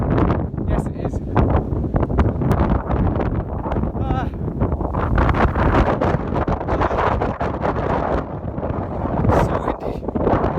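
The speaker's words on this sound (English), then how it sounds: "It's not usually this windy." Strong gusting wind buffets the microphone outdoors, a dense, constant roar that lasts the whole time without a break.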